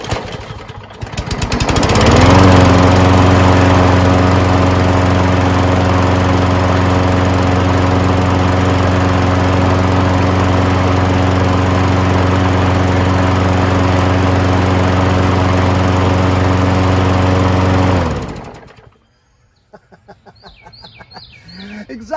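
A repaired push lawnmower, fixed after a broken cable, starts and runs at a steady loud drone for about sixteen seconds before cutting off, with faint birdsong in the quiet afterward.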